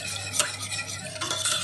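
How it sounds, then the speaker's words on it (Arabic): A whisk stirs garlic sauce (toumia) in a bowl with a steady, brisk scraping swish that runs close and continuous, with a couple of sharper strokes standing out. "دلوقتي بقى نبدا نقلب بالمضرب بتاعنا"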